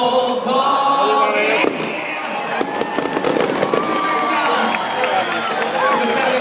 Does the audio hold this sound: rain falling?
no